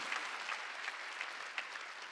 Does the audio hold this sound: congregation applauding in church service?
yes